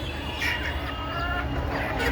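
Desi chickens on a rooftop give soft clucks and short calls against a constant background hum, their voices fairly close and overlapping through a couple of seconds.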